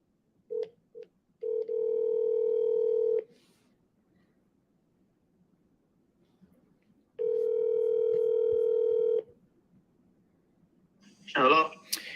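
A phone call to a real estate agent, with a few short tones, then two long, steady ringback tones separated by a silent gap, clear and close, and a voice answering at the end.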